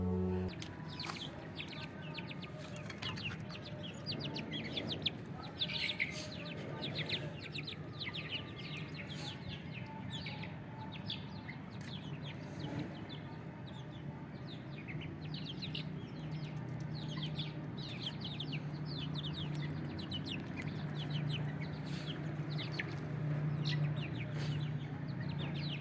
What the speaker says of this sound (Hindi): इस मुर्गी के नीचे 10 अंडे रखे थे, 10 ही चूज़े से निकाले थे